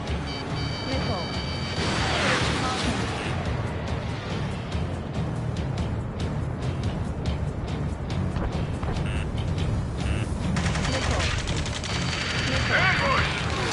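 Gunfire in a PS4 video game, sustained rapid automatic fire and scattered shots rattling continuously over engine and battle noise, with voices talking throughout.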